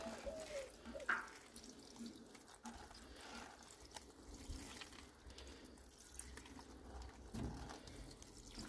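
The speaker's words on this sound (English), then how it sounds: "So need to give them a little watering." Water poured to soak seedlings and plug plants in a garden, a steady soft splashing and trickling that runs throughout at low level, with a brief louder splash near the start.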